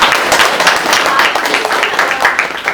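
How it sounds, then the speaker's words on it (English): Audience applauding at a business networking workshop certificate ceremony, a loud, close, dense burst of many hands clapping continuously for a few seconds. "Please give all of them a round of applause."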